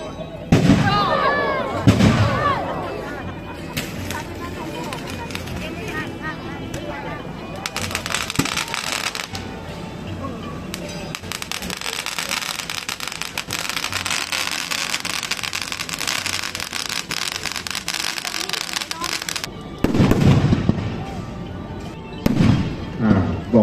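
Fireworks and large bamboo rockets go off at a Thai cremation festival (poi lo) in Chiang Mai, a dense, loud barrage of booms and crackles that swells at the start and end, with voices talking throughout.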